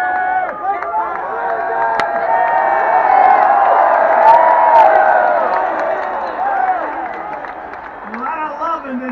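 A large open-air crowd at the National Jamboree roars and cheers, a broad sustained swell of many voices with scattered shouts rising to a peak mid-way and easing slightly toward the end.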